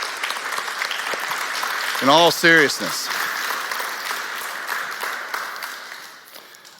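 An audience in a church claps in a continuous broad patter while someone speaks briefly over it near the middle; the applause slowly fades toward the end.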